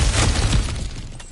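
Cracked ground shatters in a video game, a sharp crunching burst of breaking rubble that fades quickly into scattered debris.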